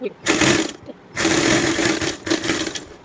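A sewing machine stitches the fabric of a small girl's umbrella-cut dress in three close, loud whirring bursts separated by brief pauses.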